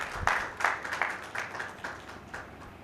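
An audience at a Pakistani Christian gathering claps to welcome deputy Anthony Naveed, a moderate wash of applause with distinct rhythmic bursts of hand claps rising and falling, fairly close and without speech.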